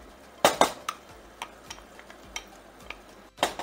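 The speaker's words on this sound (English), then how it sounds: "I'm just cooking and stirring" A metal spoon scrapes and taps against a cooking pot while hot dog chili sauce is stirred, giving several close clinks and softer scrapes at an uneven pace over faint background hiss.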